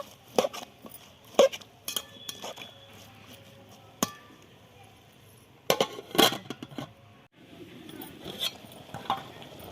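Boiled cabbage and pumpkin with potato being stirred in a pot with a little added water for a Bengali ghonto, giving scattered metallic clinks and scrapes of a spoon against the pot, with quiet pauses in between and no talk.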